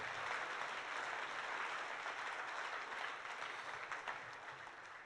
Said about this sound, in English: That's a round of applause, absolutely.